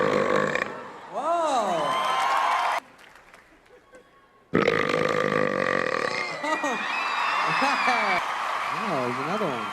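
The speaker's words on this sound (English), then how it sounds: "Burping champion of the world!" Loud, drawn-out burps from someone billed as a burping champion at a Kids' Choice Awards event come in several long bursts with a short quiet gap. Crowd noise and voices sit around them.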